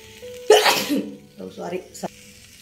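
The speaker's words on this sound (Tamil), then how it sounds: "சாரிங்க தும்மல் வந்துருச்சு." A person sneezes loudly and close by while cooking egg fried rice in a kitchen, followed by a few softer breathy sounds and a short sharp catch.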